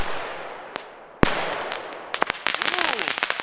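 Wet firecrackers going off outdoors: a few scattered sharp bangs followed by a rapid crackling string of small explosions, loud and close, with excited voices in between.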